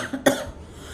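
A single short, sharp cough bursts out close by from a person sick with fever, followed by faint breathy room noise.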